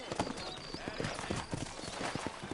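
Horse hooves clip-clop in the Red Dead Redemption video game, a brisk, uneven patter of hoofbeats with light jingling on top, close and fairly continuous.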